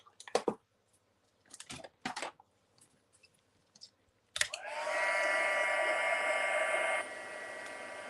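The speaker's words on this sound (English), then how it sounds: "I'm going to heat emboss it." A few quiet clicks and rustles of card crafting come before a heat gun switches on for heat embossing a card. It gives a steady, fairly loud whooshing whir that continues for a few seconds and then drops slightly in level.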